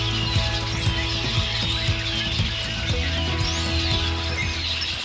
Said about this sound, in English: these red-winged blackbirds are noisy